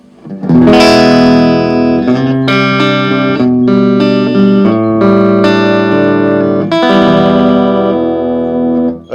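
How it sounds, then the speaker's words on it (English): An electric guitar plays a sustained, ringing chordal passage through a Roland JC-120 style practice amp on its clean channel, loud and close, with several strummed chords decaying smoothly into one another. "Here's a clean channel."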